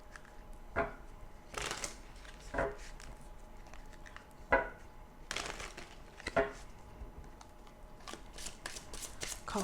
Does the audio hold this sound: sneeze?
no